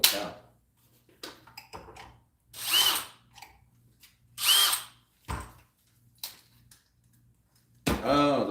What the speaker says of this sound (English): Let's turn the drill down.